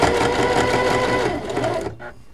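A sewing machine stitches the last side of a scrubby dishcloth, a steady close, loud mechanical whir that runs for about two seconds and then stops abruptly.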